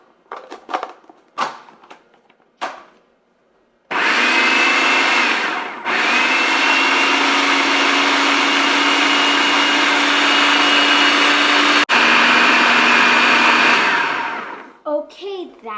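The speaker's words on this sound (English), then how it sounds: "I'm going to put the lid on and mix in the blender" A blender roars loudly and steadily for about ten seconds while mixing pumpkin for pumpkin pie, briefly pausing once, after some clattering and knocking at the start.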